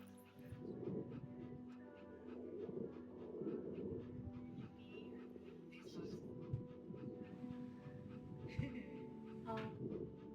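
A dog in the video game That Dragon, Cancer whimpers and pants in soft, repeated whines, while people talk quietly over the game sounds.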